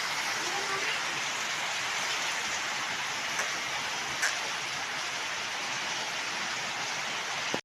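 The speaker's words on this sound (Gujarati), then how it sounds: "વરસાદ હારામાં હારો આવે છે." Heavy rain pours down in a dense, steady hiss that stays loud and unbroken throughout, with a couple of faint knocks in the middle.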